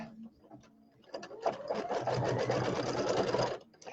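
Embroidery sewing machine stitches a straight line, a fast rattling whir that starts after a brief quiet lead-in, runs loud and steady for a few seconds, then stops.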